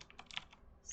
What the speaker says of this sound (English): that's working out for me at the moment while I'm doing some typing